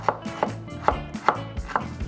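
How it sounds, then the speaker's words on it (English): A knife chops through ginger on a board, five sharp, evenly spaced cuts at a steady rhythm, close and clear. "Just help the blender by chopping this ginger over here."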